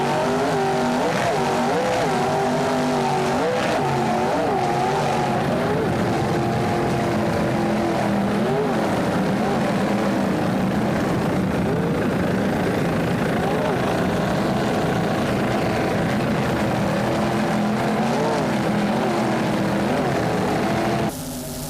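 Offshore powerboat racing engines at the Daytona Harley-Davidson Offshore Grand Prix, including a 37-foot Outer Limits boat, a loud sustained roar with wavering pitch as throttles shift, a commentator talking over it throughout.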